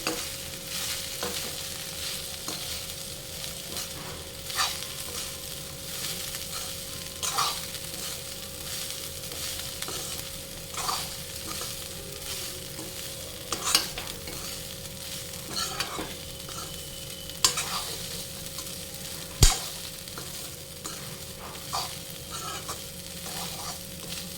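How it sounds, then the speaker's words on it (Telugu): Washed flattened rice (poha) being stirred in a hot pan, with a steady soft sizzle beneath repeated scraping and clinking strokes of a spoon against the pan. "అటుకులు ఇందులో వేయాలి. వేసిన తర్వాత కలుపుకోవాలి."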